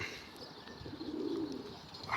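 A pigeon gives a low, soft coo close by against a steady background hum, one brief rolling call with no talking.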